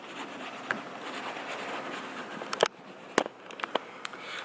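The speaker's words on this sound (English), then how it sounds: "what you heard there is all this little stuff being picked up by the clay." A clay bar rubbed over the sprayed paint of a 2004 Subaru STi gives faint, quiet scratchy friction with small crackles and several sharp ticks as it picks up bonded contaminants, and no one speaks.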